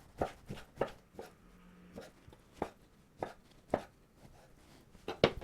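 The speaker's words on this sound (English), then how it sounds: "So now we chop the breast" A knife chops boneless chicken breast on a board for General Tso's chicken, with a series of quiet, irregular thuds, some in quick pairs, close and soft with no talking.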